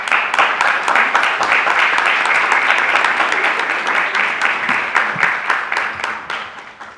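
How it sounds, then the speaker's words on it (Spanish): An audience at a public discussion on press freedom bursts into loud applause, with crisp, distinct claps over a dense bed of hands that stays strong and then slowly thins toward the end. "para quien pido un aplauso"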